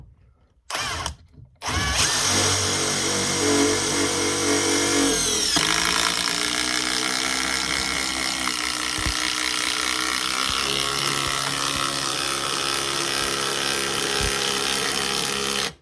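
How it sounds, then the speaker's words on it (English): Old Milwaukee M12 impact driver sinking a 6-inch lag screw, a loud, continuous buzzing hammer rattle that runs almost unbroken for about fourteen seconds after a couple of brief starts. "Drives that 6-inch lag like a boss."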